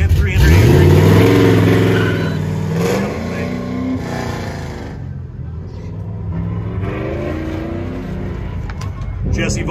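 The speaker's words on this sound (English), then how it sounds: "Jesse Boss cruising in this 1949 Chevy step side truck. It's got a 383 cubic inch engine." A 1949 Chevy step side truck with a 383 cubic inch engine, built from a 350 block and a 400 crank, runs a timed course at a Goodguys event in Des Moines. The engine revs loud and close, then eases off, under an announcer's continuous commentary.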